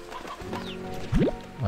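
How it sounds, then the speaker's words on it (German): Chickens cluck in short, quick bursts in the video game Slime Rancher 2, set against game background sounds with no speech. "Ein Huhn."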